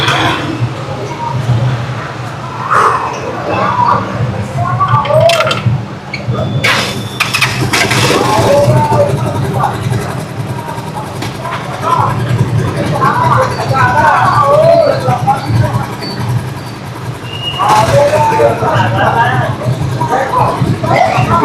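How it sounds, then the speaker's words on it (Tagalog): A Rusi Chariot 175 engine runs quietly with an air-conditioning unit mounted in the back, giving a low steady hum under ongoing conversation, with occasional clatters and louder bursts of voices nearby. "Okay, tahimik pa yung makina nyo."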